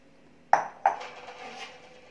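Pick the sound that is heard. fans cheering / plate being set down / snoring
plate being set down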